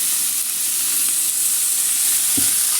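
Oil sizzles with a steady, loud hiss in a pan with turmeric during village-style home cooking, a continuous close frying sound with a brief knock near the end and no voices.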